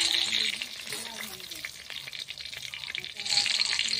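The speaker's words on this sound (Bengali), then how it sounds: "বেগুনটা প্রায় ভাজা হয়ে গেছে" Eggplant pieces fry in hot oil in a wok, a steady close sizzle that swells and eases with a few light stirring scrapes, no voices over it.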